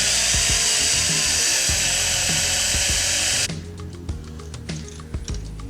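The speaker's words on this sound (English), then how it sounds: "drill out the actual remaining rivet on the edges to release the bottom part of the car away from the metal housing" A small power drill whines loud and close as it bores out the rivets holding the metal body of a toy car, cutting off abruptly partway, followed by faint clicks and handling noises.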